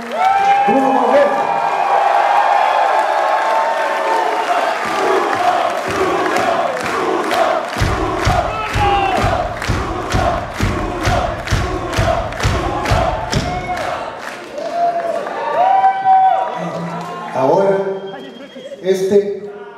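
A concert audience cheers and claps at a rock show, starting with loud crowd roar and shouting, then rhythmic clapping in steady beats before cheering returns, with someone speaking over the crowd.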